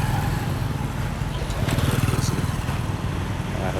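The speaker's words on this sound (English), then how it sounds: "I have to wait all these motorbikes" Motorbikes stream past on a busy street in Siem Reap, a continuous close engine drone with a rising, throbbing pass in the middle, filling the whole stretch without pause.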